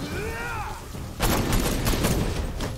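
Gunfire from the Red Hood section of Batman Arkham Knight, a loud burst of several rapid shots that starts about halfway through, following a stretch of game music and effects.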